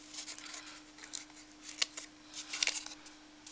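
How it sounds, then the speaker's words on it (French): Small scissors snip cardboard while a model caravan is being made, giving quick, close, crisp cutting clicks in uneven bursts over a faint steady hum. "avec mes petits ciseaux"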